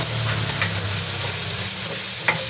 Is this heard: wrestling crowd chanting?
no